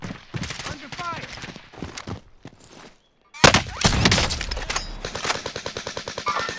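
Rapid bursts of automatic gunfire from a full-auto TEC-9 in Call of Duty Warzone, loud and close in dense rattling volleys, the second half louder and more sustained after a brief silence.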